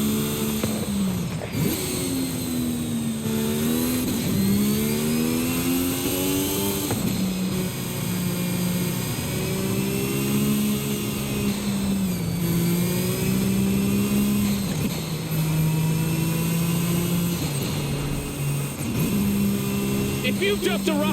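Car engine revving in the racing video game Forza Horizon 5 on PS5 with a G29 wheel, loud and continuous, rising and falling in pitch as the revs change and gears shift throughout.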